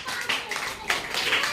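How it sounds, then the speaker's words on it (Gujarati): Children clapping together in a classroom during a lesson on making groups of ten, with steady applause bursts through the short clip and voices mixed in. "સરસ, તાળી પાડો."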